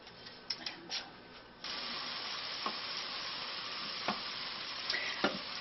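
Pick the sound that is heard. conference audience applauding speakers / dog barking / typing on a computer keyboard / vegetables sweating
vegetables sweating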